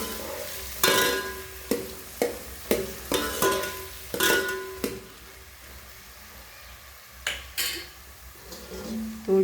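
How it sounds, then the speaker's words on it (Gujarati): Cluster beans (guvar) roasting in hot oil in a pan, close, repeated spatula scrapes and clacks in a loose rhythm over a steady frying sizzle, no speech. "થોડી વાર આપણે ગવાર તેલમાં શેકાવા દઈશું"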